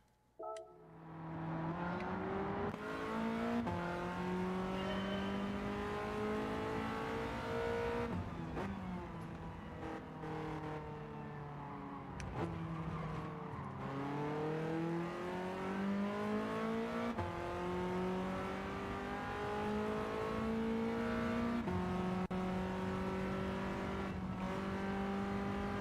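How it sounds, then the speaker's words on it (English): Car engine in the Gran Turismo 7 racing game, revving up and down through the gears in repeated rising pitch sweeps, with a turbo whistle over the steady engine drone and no talking. "I can hear the turbo whistling on this car."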